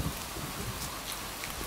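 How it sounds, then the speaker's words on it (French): Rain mixed with hail in Minecraft weather, a steady dense patter of drops with a soft low rumble underneath, continuous and fairly quiet throughout, with no voices. "Il y a un petit peu de grêle."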